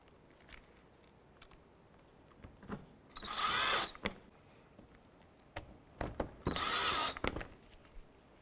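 Power drill driving screws into the bottom of a 2011-2018 Volkswagen Jetta bumper, with two close, loud bursts of whirring about a second each, separated by quieter handling clicks and taps.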